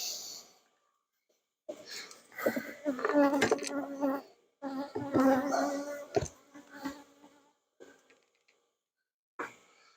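Honeybees buzz close by at an open nucleus hive during a summer inspection, with intermittent swells of droning wings and soft breathing between quieter gaps.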